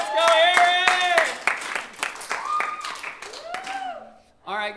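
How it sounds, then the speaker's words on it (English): An audience at a live church-style gathering claps in sharp, close bursts while voices cheer and shout over it, the clapping thinning out toward the end. "We need a bigger round of applause for Eric, guys."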